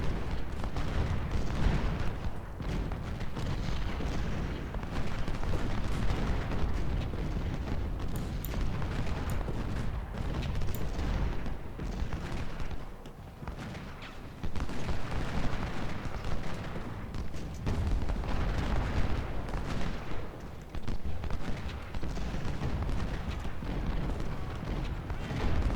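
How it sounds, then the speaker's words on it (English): Heavy cannon artillery fire, including 24-pounder and 12-pounder guns, in the Civil War strategy game Ultimate General: Civil War during the Siege of Suffolk, with dense, continuous booming and rumbling for the whole clip and no talk. "And cannons. 24 pounders."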